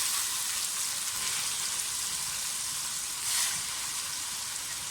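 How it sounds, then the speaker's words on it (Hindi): Chicken frying in a pan with garlic and ginger, giving a loud, steady, close-up hiss of sizzling oil with one brief swell of stirring, and no talk. "सबसे पहले मैं इसमें चिकन डालूंगी और चिकन को फ्राई करूंगी"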